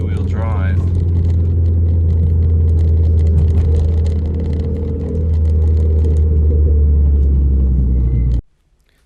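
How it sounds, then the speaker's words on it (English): A Renault Clio RS in normal mode pulls away hard from traffic lights: a loud, steady engine rumble from inside the cabin dips briefly midway, then swells again before cutting off abruptly. "I'll try and show you how the car just launches in"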